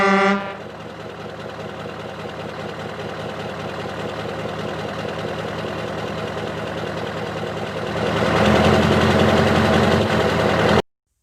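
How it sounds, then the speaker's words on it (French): A truck horn sounds at the start, followed by a steady engine rumble in a narrow alley; the engine grows louder near the end, then cuts off abruptly, with no talking. "ça commence par un coup de klaxon de camion"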